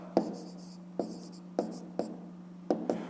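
A pen writing answers on paper for a fifth-grade maths exercise: six short scratchy strokes in an uneven rhythm, close and fairly quiet over a steady low hum.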